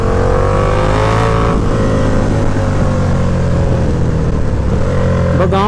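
A motorcycle engine roars loudly and continuously, its pitch climbing as it accelerates, with wind rush and passing traffic around it.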